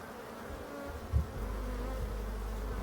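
Wild bees buzzing at the entrance of their colony in a Breton marsh while hornets attack, a continuous droning hum with a louder close pass near the middle, no voices.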